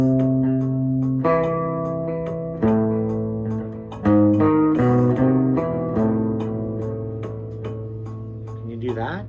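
Sustained musical tones ring out in sequence, with chromatic passing notes played together and resolving into a chord, each note entry clear and reverberant and heard alone.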